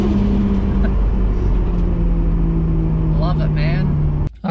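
Nissan Skyline R33 with an RB25DET engine cruising, a steady low engine drone and road noise heard from inside the car, continuous and fairly loud, cutting out briefly near the end.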